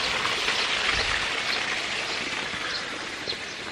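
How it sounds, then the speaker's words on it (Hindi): Steady, dense rush of water falling and flowing beside Tiger Fall waterfall in the hills of Chakrata, Uttarakhand, a continuous broadband wash that stays close and even throughout with no voices. "तो हर जगह से पानी की आवाज़ आ रही है यहाँ पे"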